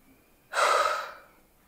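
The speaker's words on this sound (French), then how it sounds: "Peut-être que vous aurez envie de venir faire une grande respiration." One long, deep inhale during a relaxing yin yoga session, breathy and close, swelling suddenly and then easing off slowly into near silence.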